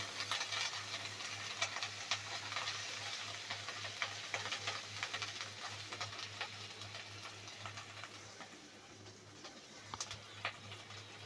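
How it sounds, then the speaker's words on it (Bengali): Ginger and garlic paste with cumin paste frying in a pan for shrimp malai curry, a steady close sizzle with light scraping stir strokes throughout, no talk. "আদা রসুনের কাঁচা গন্ধ যাওয়া পর্যন্ত নেড়ে চেড়ে এটা ভেজে নেব।"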